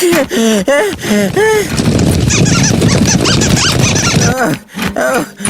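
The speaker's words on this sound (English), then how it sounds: "The squirrels are coming! Squeak! Squeak!" Cartoon squirrels from Ben And Holly's Little Kingdom squeak in a rapid run of high chirps, loud and close, followed by a dense burst of busy scampering noise and more squeaks.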